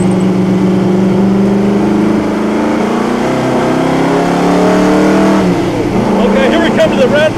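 A historic race car at the 2008 Monaco Grand Prix Historique roars close and loud, its engine pitch sliding down through a downshift before blipping up again, with someone talking over it.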